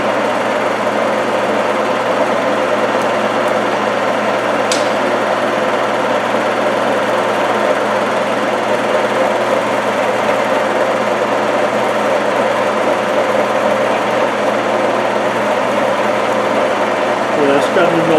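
An Ajax milling machine cuts at 224 RPM, giving a loud, steady mechanical hum and whine that runs without a break, with one brief sharp click partway through.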